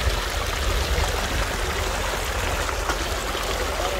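Water flows from a natural spring along a rocky path, a continuous close babbling and trickling rush that stays steady and fairly loud, with no talk over it.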